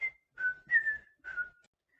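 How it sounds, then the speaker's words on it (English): A person whistles a short, clear phrase of the tune Pop Goes the Weasel, four separate pitched notes over two seconds with brief gaps between them. "Data couldn't whistle, and he was trying to whistle the song. You know the song, Pop Goes the Weasel."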